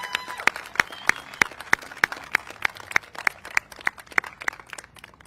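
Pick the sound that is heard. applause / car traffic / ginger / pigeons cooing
applause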